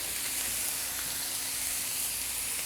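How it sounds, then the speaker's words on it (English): Bacon sizzles on a griddle with a steady, bright, crackling hiss that holds even throughout, close and alone. "there's the bacon. So we're going to be cooking the bacon first."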